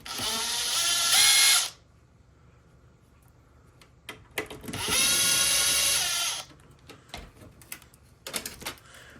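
A power drill fitted with a Torx 20 bit whirs in two loud bursts, backing out hinge screws on a Monogram oven door, with clicks and clunks of handling the hinge between the runs.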